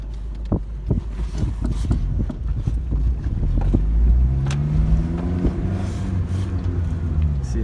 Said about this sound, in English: See how this stock K-20 runs